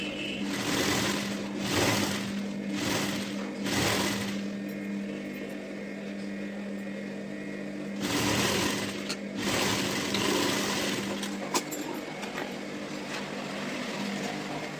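A sewing machine stitches the shoulder seam of a size 40 bra-cut blouse, a steady close mechanical whir that runs in long bursts with brief pauses between them.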